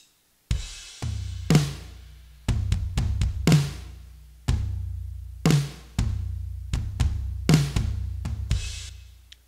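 Worship drum kit with its drums replaced by Trigger 2 samples gives a big, fat, punchy beat of loud kick and snare hits with sustained low boom and cymbal shimmer, steady and close with no voices.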